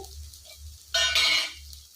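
Ginger garlic paste dropped into a hot frying pan for soya and palak rice, giving a sudden bright hiss that lasts about half a second over a quiet kitchen background.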